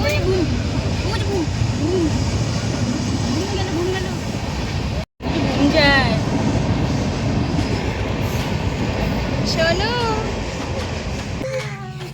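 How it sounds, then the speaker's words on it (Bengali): A train rolls steadily past close by for several seconds, a continuous rumble with clattering wheels and brief metallic squeals, one short dropout midway, while people talk over the noise. "ট্রেন দেখো শোনো।"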